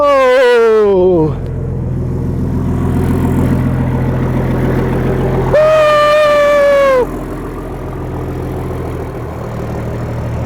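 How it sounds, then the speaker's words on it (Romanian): A turbocharged Nissan Patrol engine fires up on its first start after fitting a turbo and large injectors, settling into a loud, steady running rumble that continues throughout, with brief rising tonal whines near the start and midway, and no talking. "Motor de patrol, fraților, vine vorba, motorul ăsta pe patrol, rupe în pădure, ia uitați-vă cum corcă"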